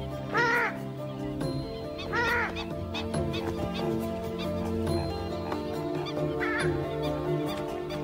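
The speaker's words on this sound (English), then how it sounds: "This is the purple swamp hen, also called the sultana bird, famed for its very loud," A purple swamphen gives several loud, harsh, explosive honking calls in short bursts, with other birds calling and chattering in the background.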